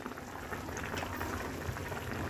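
Hilsa fish curry with potato and eggplant bubbles steadily in a pan, a dense, even boil with constant popping, close and alone.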